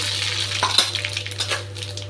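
Mustard seeds and urad dal fry in cooking oil, giving a short burst of crackling sizzle with sharp pops and spoon scrapes against the pan, close and fairly loud over a steady low hum.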